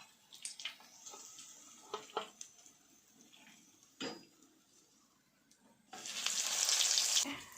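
Crispy egg fingers deep-frying in hot oil give a soft, intermittent sizzle with a few clinks from the pan, then a loud, bright burst of crackling near the end.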